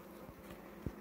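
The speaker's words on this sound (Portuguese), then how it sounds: "Olha as abelhas" Italian honeybees hum steadily around an open hive holding a queen and eggs, a faint continuous buzz with one brief closer swell as a bee passes near.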